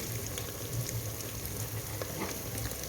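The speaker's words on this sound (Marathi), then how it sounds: "आता हे मसाले मी छान परतून घेतलेत" Powdered spices, including pav bhaji and tarri masala, sautéing in a pan over a wood-fired stove, giving a steady, close, even sizzle with faint crackle and no talk.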